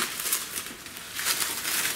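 Plastic bag being pulled off a transport case during unboxing, a steady close crinkling and rustling of thin plastic across the whole stretch, with no voices.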